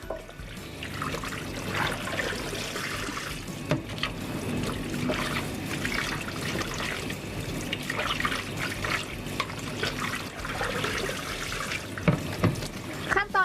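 Ground pork is squeezed and kneaded by hand in a basin of water, rinsed until the cloudy water runs clear; steady sloshing, splashing and trickling close by, with brief soft talk over it.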